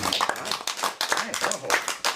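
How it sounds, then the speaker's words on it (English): Audience applause rises at the close of a hosted show, a mix of clapping and cheering with a talking voice running over it throughout. "Applause. I love that."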